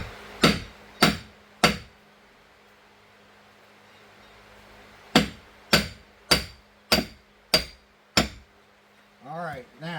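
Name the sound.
hammering gimbal bearing alignment shaft into coupler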